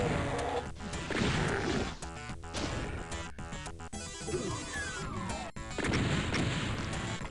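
Gunfire and crashing impacts in the DOOM video game, a dense, loud barrage of shots and blasts that runs almost nonstop with brief gaps, no voices over it.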